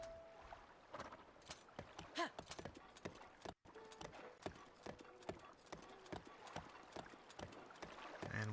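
Horse hooves in a Zelda video game clip-clop in a steady, quick rhythm near the listener, set against a faint outdoor ambience with a few brief tonal game cues.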